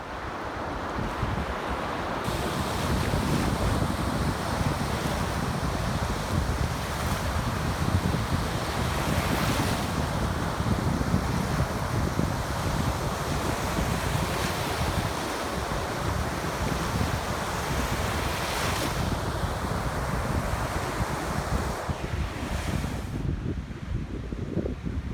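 Waves break continuously on the beach at Long Point, with strong wind buffeting the microphone. The roar is steady and fairly loud for the whole stretch, with no voices.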